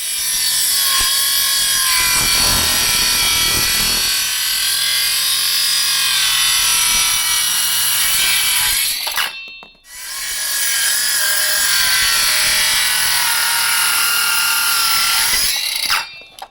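A Ronix cordless circular saw cuts a groove into oak, a loud, steady whine with a brief drop near the middle as the blade pauses, then resumes straining through the wood until a short cutoff at the end.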